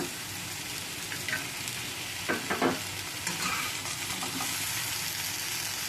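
Vegetable stalks with cumin and spices fry and get stirred in a pan, a continuous close sizzle with a brief cluster of scraping spoon strokes midway and no voices.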